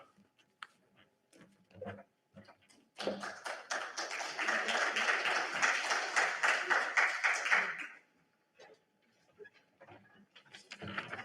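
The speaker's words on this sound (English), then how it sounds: "I'm glad you applauded then" Conference audience at BSides 2022 applauds as a speaker takes the stage, a dense burst of clapping lasting about five seconds, framed by scattered footsteps and small knocks.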